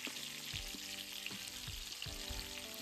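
Stuffed brinjal sizzles and fries steadily in a pan, a continuous crackling hiss broken by a few soft clinks of stirring.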